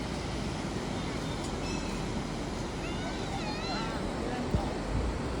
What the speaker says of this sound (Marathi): बीच बघा, लाटा बघा किती जोरात येतात.